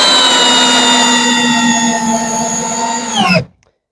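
A light cordless drill whines at a steady high pitch for about three seconds, then spins down and stops abruptly, leaving silence.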